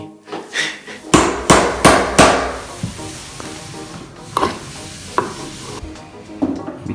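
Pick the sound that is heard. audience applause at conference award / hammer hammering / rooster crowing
hammer hammering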